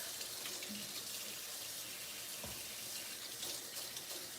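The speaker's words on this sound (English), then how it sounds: "let me wash my hands here for a sec" Hands washed under a running kitchen tap, a steady faint stream of water splashing into a sink throughout, quiet and continuous with no talk.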